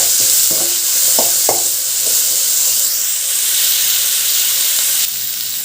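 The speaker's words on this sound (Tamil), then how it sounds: "உப்பு சேர்த்து நல்லா வதக்கிக்கலாம்." Pasta sauce ingredients sauté in a pan with salt, a loud steady sizzle and hiss broken by a few spoon knocks while stirring, close up.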